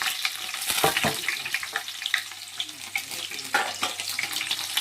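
Green chilies and chopped onion hit hot oil in a pan for a village-style fish curry, giving a steady close sizzle with bursts of crackle and a few stirring scrapes, no voices.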